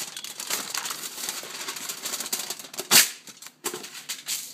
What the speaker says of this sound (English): I get my aluminum foil, my piece of aluminum foil, as you see here.